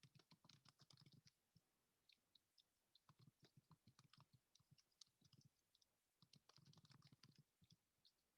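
Soft, irregular bursts of typing on a computer keyboard, quiet and close, coming in a few clusters separated by pauses, with no voices.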